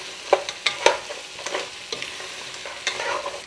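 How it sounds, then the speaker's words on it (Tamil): Marinated crab is stirred and fried in a pan for a home-made crab gravy, with repeated scraping stirs and clacks over a steady sizzle, close and moderately loud. "இப்போ நாம் கழுவி மெரினேட் பண்ணி வச்சுருக்கிற நண்டை இதில் சேர்த்துக்கலாம்"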